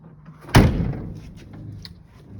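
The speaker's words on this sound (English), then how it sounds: "Doors close nice and solid." A car door on a custom build with a GMC Yukon Denali gauge pod swings shut with one solid, heavy slam, close by, followed by a short fading rattle.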